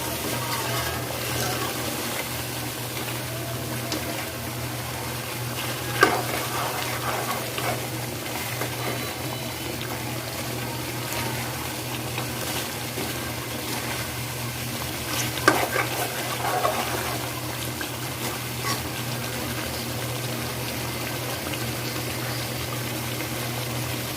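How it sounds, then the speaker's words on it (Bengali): Beef for biryani sizzles steadily in a pan while being stirred, a continuous frying hiss with a few louder scraping stirs near the middle, close and without any talk. "মাংসটাকে ভালো করে কষিয়ে নিচ্ছি।"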